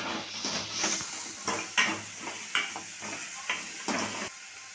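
A spoon stirs salt into radish and dal sambar in a pot, making a faint series of soft scrapes and light clinks at a steady pace over low sizzling.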